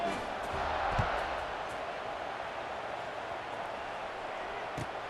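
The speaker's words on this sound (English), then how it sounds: "this crowd is buzzing after that last score" Crowd at a video game football match buzzing steadily after a score, a continuous wash of cheering noise at even level.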